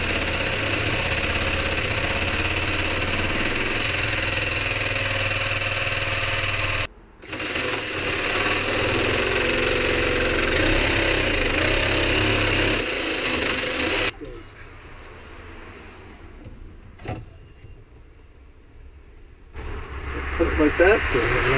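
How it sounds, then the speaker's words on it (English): A reciprocating saw cutting into the dash of a Fleetwood motorhome, a loud, continuous buzzing drone that runs for about fourteen seconds with one brief pause, then stops, leaving quieter handling noises and some talk. "Now I'm going to pick a reciprocating saw blade that's not long, too long."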